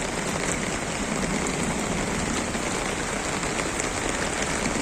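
Heavy rain pours steadily during a flood, a dense, loud, unbroken hiss of drops drumming on surfaces close around, with no voices.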